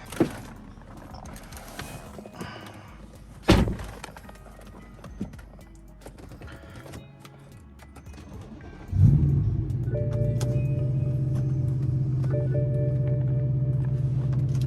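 A BMW E92 M3 Competition with its naturally aspirated V8 starts with a sharp burst and settles into a steady, loud, low engine drone close by, after quieter shuffling and a single thump.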